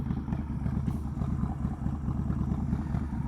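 A 2008 Kawasaki Mean Streak 1600 motorcycle engine idles steadily nearby with a low, even rumbling pulse, no voices.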